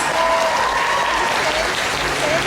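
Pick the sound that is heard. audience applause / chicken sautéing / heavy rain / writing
audience applause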